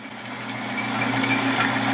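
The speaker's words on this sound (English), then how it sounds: "We're going to drill this hole and then we're going to keep expanding this hole." A drill bores a hole into a wooden vase blank during woodturning, giving a steady, continuous motor whine and hum that swells slightly, close up and alone with no voices.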